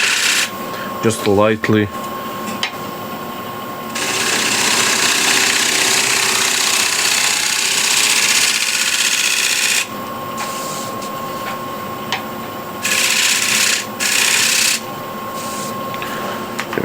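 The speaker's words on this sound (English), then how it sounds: "to finish it here at the corner, I'll use a shear scraper" Shear scraper working the corner of a large wooden bowl on a spinning lathe, giving a steady broadband scraping hiss in long stretches over the lathe's hum, with someone speaking briefly near the start.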